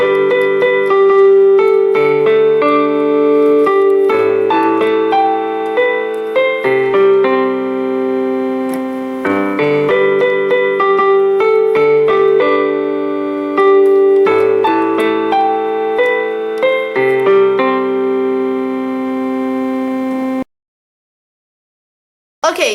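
Piano playing the first verse of a song, a sustained, steady flow of chords and melody with a continuous low accompaniment, clear and close, stopping abruptly near the end.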